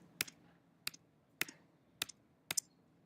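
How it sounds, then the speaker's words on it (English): Five sharp computer keyboard arrow-key clicks spaced about half a second apart, some doubled, on a quiet background. "I'm using the arrow keys."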